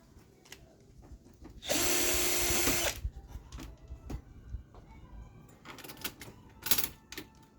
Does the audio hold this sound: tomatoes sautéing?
no